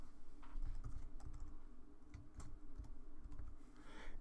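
Keys clatter on a computer keyboard in quick irregular bursts and single taps, close and fairly quiet, while entering a Mathcad prime-number program.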